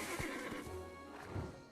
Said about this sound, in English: That horse is fast.